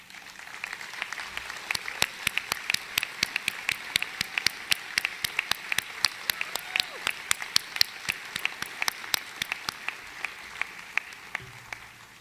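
A room full of people claps for staff and lawyers at a business awards show, a dense, steady round of applause that holds throughout and thins slightly near the end.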